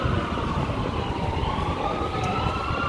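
An ambulance siren wails on a city street, a steady gliding tone heard from a moderate distance over the low traffic rumble, with no talking.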